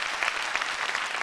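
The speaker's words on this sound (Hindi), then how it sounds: "जोरदार तालियां बजाएंगे इसके लिए।" A brief, steady patter of audience applause at a seminar, fairly close and unbroken from start to finish.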